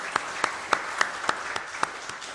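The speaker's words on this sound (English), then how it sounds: "big applause for all the two presenters." Conference audience applauding two presenters at an economics and business research conference, heard as a steady, evenly spaced run of sharp claps at moderate volume, sounding like only a few hands.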